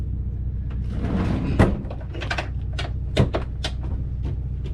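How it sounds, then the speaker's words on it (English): Pull-out pantry cabinet with soft-close hardware in a 4x4 RV sliding open, a series of close wooden knocks, rattles and a gliding rumble with two firmer bumps, under a steady low background hum, no voices. "This actually kind of slides out, and it's a pantry right there."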